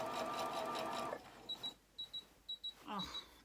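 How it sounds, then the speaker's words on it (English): A home sewing machine runs a burst of top stitching along the facing of a kimono-style jacket, then gives a few short start-stop whirs and ticks, close and fairly quiet. "from the top I'm actually sewing along the facing"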